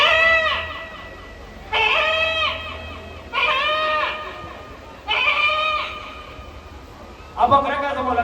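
A man imitates a nanny goat bleating, giving four loud wavering bleats separated by short pauses, each a nasal quavering cry, close to the mic.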